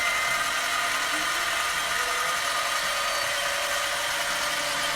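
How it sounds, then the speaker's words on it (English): An aluminium workpiece turns on a lathe while a stepper motor drives the carriage, giving a steady, continuous high-pitched whine and hiss, fairly loud and unbroken, with no talking. "And let's turn on the motor. The carriage should start moving now."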